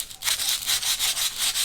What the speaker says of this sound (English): if you go over the end with your sanding paper so that you know you've gone past the end of the dowel